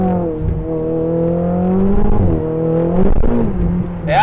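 A mid-engined twin-turbo Ferrari 488 GTB with an Akrapovic exhaust, about 700 hp, accelerates hard in race mode with traction control off, its engine note climbing steadily through rising revs, briefly dipping at a shift, then pulling again, loud and close.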